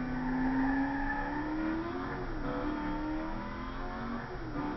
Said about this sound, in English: That's a pretty sick engine there. I love that engine.